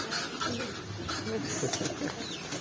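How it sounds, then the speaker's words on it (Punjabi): Several pigeons in a Pakistani pigeon collection coo softly and repeatedly, a low murmuring layer that runs steadily throughout with faint background noise. "ਇਹ ਸਾਰੇ ਕਬੂਤਰ"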